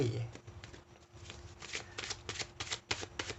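A deck of tarot cards is shuffled close by in quick repeated riffling bursts, while someone talks over it.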